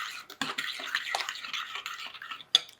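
A cooked ground beef and salsa mixture gets stirred in a pan, with continuous wet scraping and shuffling and a sharp utensil clink near the end, close and without talk.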